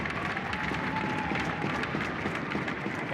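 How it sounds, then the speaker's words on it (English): Audience applause at a blind hockey game in a Canadian tournament arena, heard as a steady wash of distant clapping and crowd noise that holds evenly for about three seconds. "nice round of applause here"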